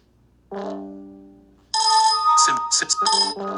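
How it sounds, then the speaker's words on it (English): A YouTube notification chime plays on an iOS device, one soft tone followed by a brighter multi-note electronic jingle, clear and close with no talk. "YouTube notification."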